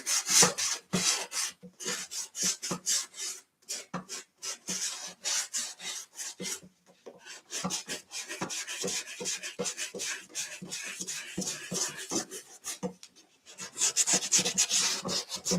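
Hand sanding along the edges of a painted craft lamp, rhythmic rasping strokes in quick bursts with short pauses, close and fairly loud.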